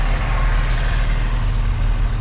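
Heavy truck engine rumbling steadily at low speed as the vehicle creeps slowly forward, a continuous close diesel drone with no voices.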